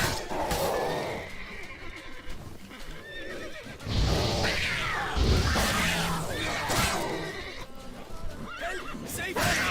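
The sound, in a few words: horse neighing and hooves in The Witcher 3 video game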